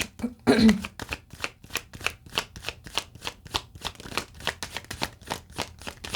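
Tarot cards being shuffled in a steady run of crisp riffling bursts, about three per second, close and fairly loud, with no talking.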